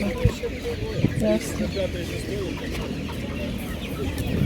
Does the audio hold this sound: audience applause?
no